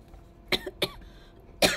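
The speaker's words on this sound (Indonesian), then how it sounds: "Aduh, batuk nih." Three short, dry coughs from one person, close to the microphone, the first two in quick succession and a third after a pause, in an otherwise quiet room.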